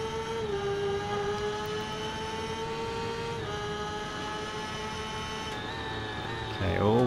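MV Agusta F4 motorcycle engine in the Ride 2 racing game, a steady high-pitched whine holding near-constant revs with slight pitch shifts, then dropping sharply as the rider brakes near the end.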